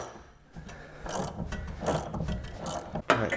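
Ratchet cranking on a leaf spring bolt of a Jeep Cherokee XJ: faint, uneven clicking and grinding strokes in a few bursts, close by with shop background and no talk over it.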